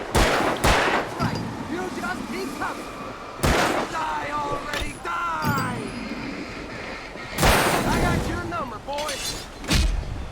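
Gunfire in the Alan Wake video game, with sharp shots at irregular intervals mixed with game effects, and a voice talking over parts of it.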